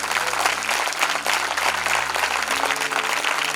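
A church congregation claps loudly and continuously, a thick steady roar of hands that lasts a few seconds with a faint low hum underneath.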